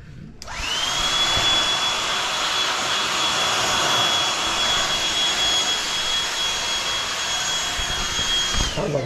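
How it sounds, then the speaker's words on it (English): A Black & Decker AdvancedClean cordless handheld vacuum switches on and runs with a steady high-pitched motor whine and airy rush, loud and close, then cuts off at the end. "Let me vacuum that up real quick since we're here."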